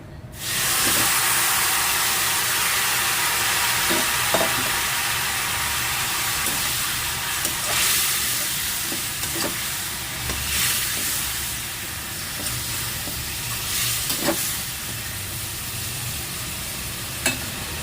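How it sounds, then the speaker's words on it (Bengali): A loud, continuous sizzle of fried chicken pieces added to butter in a hot pan, with occasional stirring clicks breaking through the steady hiss. "এবার দিয়ে দেবো ভাজা চিকেন"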